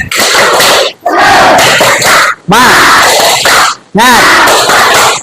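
A classroom group performs a rhythmic spirit cheer, loud bursts of clapping mixed with shouted voices in four close blocks separated by brief pauses, near and energetic.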